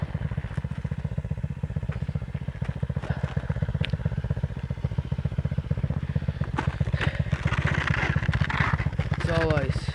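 A dirt bike engine revs and chugs in a steady throbbing rhythm while the bike sits stuck on an icy, soft hill climb, close and fairly loud, with crunching and clatter near the end.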